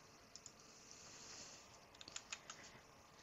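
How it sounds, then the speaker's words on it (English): Someone types on a computer keyboard. Faint, soft key clicks come in a short irregular burst near the end over a quiet room hum. "So I'm just typing that in."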